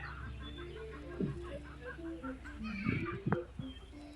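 Chickens cluck close by in short, scattered bursts in a village in Cumilla, Bangladesh, with a steady low rural hum and faint bird calls in the background.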